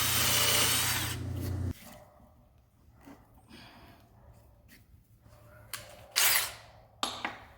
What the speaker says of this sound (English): when I'm drilling these holes, I'm not going all the way through